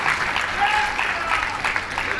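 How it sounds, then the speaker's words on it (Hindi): An audience at a public event in India applauds to welcome a guest, with steady, full clapping throughout and voices audible alongside it. "एक बार ताली के साथ शिव भैया का स्वागत करेंगे"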